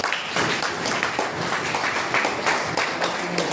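An audience claps together to welcome a professor at a college event, dense and continuous applause filling the hall for a few seconds.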